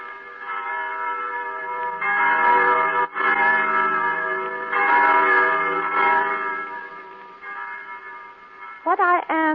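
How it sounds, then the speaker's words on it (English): Loud, sustained tolling of church bells with rich ringing overtones, swelling and fading in overlapping waves, ending with a brief wavering tone. "the blessed church bells"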